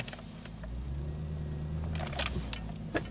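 A Lexus engine straining under load with its transmission locked up, giving a steady, close low rumble and drone with a few faint clicks and knocks near the end.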